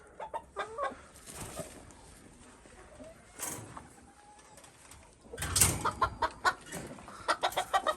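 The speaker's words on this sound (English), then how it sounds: "Got a white Cochin pullet right here." White Cochin pullet and bantam chickens clucking in a coop among other fowl and pigeons, with scattered short clucks and calls, some close and louder, others softer in the background, with no talking.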